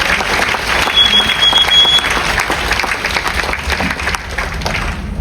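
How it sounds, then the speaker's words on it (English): Audience applause for a performer at a cups magic act aboard a cruise ship, steady clapping from a crowd at fairly close range, holding level for several seconds before easing slightly. "Really? That's my applause?"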